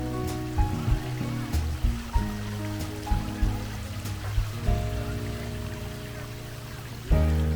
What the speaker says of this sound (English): The sound of running water is an amazing addition to any garden